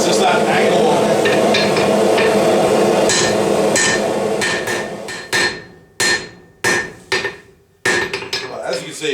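Knife blade being hammered flat on an anvil during forging, loud ringing blows close by, first dense and continuous, then slowing into separate heavy strikes with brief silences between.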